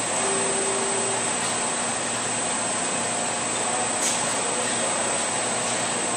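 A CNC machine spindle running steadily nearby, giving a loud, even whine and rushing hum that holds constant throughout without any talk.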